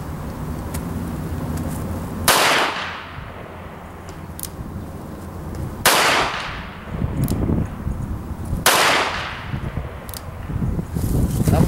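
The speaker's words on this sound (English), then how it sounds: "I'm just shooting into a pond, so that's a stub nose. Nice little gun" Three loud, sharp snub-nose revolver shots fired into a pond outdoors on a day hike, each crack spaced a few seconds apart and trailing into a long rolling echo.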